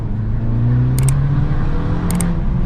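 Abarth 695 70th Anniversario with a Monza exhaust, its engine droning steadily and loud at close range, a sustained low throbbing note running throughout with no voices over it.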